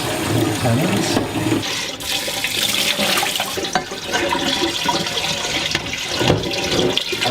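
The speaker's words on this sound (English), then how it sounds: "I'm just going to give that a little bit of water, just to wash off any excess" Water gushes and splashes steadily over shelled acorns as they are rinsed, a loud, close rushing pour that continues throughout while a voice speaks briefly.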